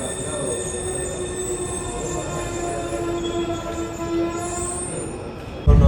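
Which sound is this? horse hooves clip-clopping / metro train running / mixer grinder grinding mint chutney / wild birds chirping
metro train running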